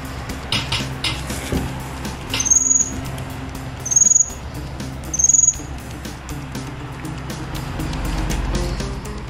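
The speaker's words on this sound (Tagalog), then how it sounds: "Gusto ko lang matulog ang ingay nitong ibon na ito." A bird calls noisily at night in three short, loud, high chirps spaced evenly about a second and a half apart, over a steady low background hum.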